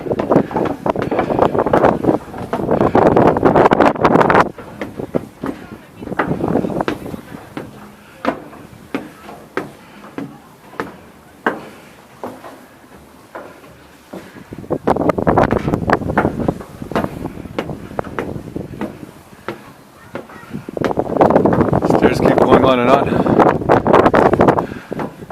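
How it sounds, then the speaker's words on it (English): Strong wind sweeps across the Petřín Lookout Tower, roaring loudly against the microphone in long gusts, with quieter lulls of small clicks and rustles in between. "It's windy."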